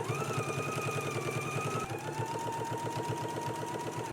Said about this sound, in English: So let's go ahead and do some understitching now